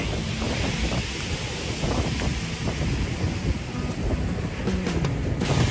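Strong seaside gusts buffet the microphone in a constant roar at Romney Sands, with dull low thumps and surf-like washes beneath.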